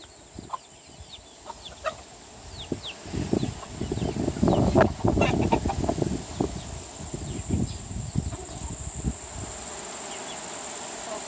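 Backyard chickens clucking in a burst of busy calls in the middle, fairly close, over a steady background of buzzing insects and a thin high whine.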